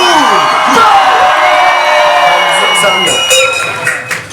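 A loud live crowd at a Bavarian beer-mug cup song show in Kempten cheers, whoops and shouts together, close and sustained, with high voices rising and trailing off near the end.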